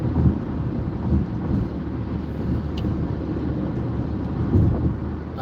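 A car cruising at about 75 mph on a highway curve, heard from inside as a steady, loud low road and wind roar that holds throughout with slight swells.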